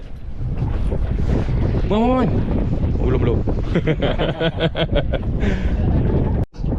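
Strong wind roars across a small fishing boat drifting at sea off Pontian, buffeting loudly and continuously, with water sloshing and brief shouted talk from the crew over it.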